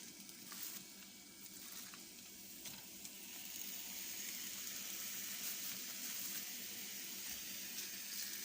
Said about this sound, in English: I'm just going to take these ribs and put them in this skillet